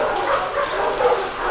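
A Border Collie gives quick, excited barks and yips in a continuous burst, close and fairly loud, during a training session with its owners.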